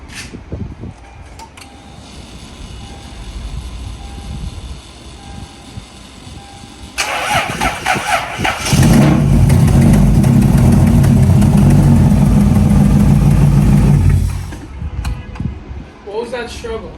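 A Lexus GS300 engine cranks and catches, then idles with a loud, steady rumble for several seconds before dropping back, with people talking over it before and after.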